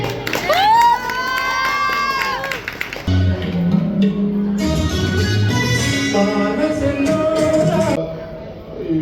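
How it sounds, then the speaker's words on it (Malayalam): A Vishu celebration crowd cheers and shouts with children's voices, a loud sustained roar with some clapping running through most of the stretch before fading near the end. "എല്ലാവരും കൈയടി വന്നേ"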